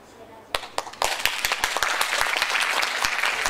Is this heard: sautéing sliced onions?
no